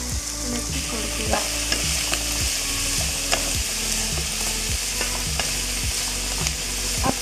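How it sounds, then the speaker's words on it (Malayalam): Four finely chopped onions sizzle in hot oil in a pan while being stirred, with a steady frying hiss and regular scraping strokes of the spoon, close and fairly loud, with no talking. "ഇതിലേക്ക് ചെറുതായി അരിഞ്ഞു വെച്ച് 4 സവാള ഇട്ട്"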